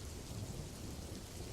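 Light drizzle on a cool autumn day, a steady wash of soft rain hiss with low rumbling underneath, even and unbroken throughout.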